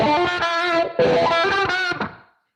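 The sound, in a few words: sweep picking on electric guitar with distortion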